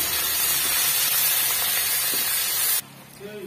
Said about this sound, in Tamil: பாருங்க வெங்காயம் மிளகாலாம் நல்லா வந்து வதங்கி வந்துருச்சு.